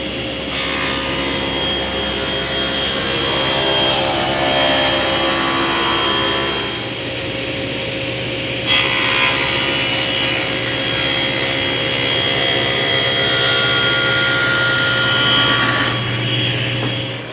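Power saw ripping a wooden bath vanity board to width in two passes, a loud, steady whining cut that drops briefly mid-pass before resuming and running to the end, with no talking.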